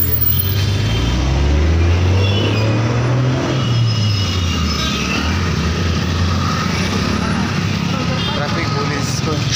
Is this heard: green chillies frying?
no